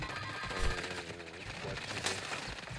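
Rapid bursts of automatic gunfire and a grenade blast crackle through a Warzone firefight, sharp repeated shots at moderate level with a player's voice talking over the action.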